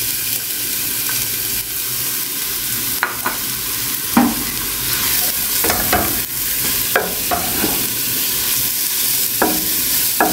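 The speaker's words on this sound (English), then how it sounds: "We're gonna fry it until it turns into caramelized." Onion frying in oil for mujaddara: a steady close sizzle and hiss throughout, with occasional spoon clicks and scrapes against the pan as it is stirred.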